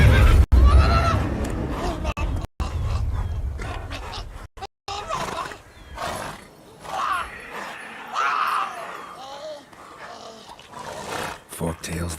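Roach, the horse in The Witcher 3, whinnies and snorts in a series of loud, rising neighs with heavy low rumbling in places, while a voice speaks briefly.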